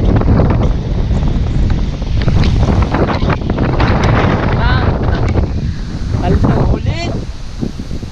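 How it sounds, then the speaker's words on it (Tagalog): Typhoon wind roars and buffets the microphone steadily throughout, loud and broadband, with faint voices mixed in underneath. "sobrang lakas talaga ng hangin at ayun"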